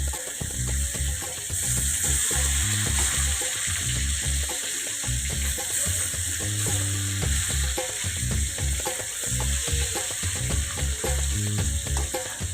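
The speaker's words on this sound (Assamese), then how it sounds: "মাছখিনি ভালদৰে ৰঙা হোৱালৈকে ভাজি ল'লোঁ।" Fish pieces frying in hot oil in a wok, a continuous loud sizzle with repeated clattering stirs and scrapes, close up, with no voices.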